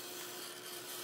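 A hairdryer blows steadily on a watercolor painting during an art class, a constant loud broadband whoosh with a steady hum and no talking.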